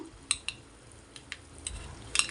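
Egg curry with fresh coconut paste being stirred in a clay pot, with faint scraping and a few light metallic clinks of the spoon over a soft background, close and quiet.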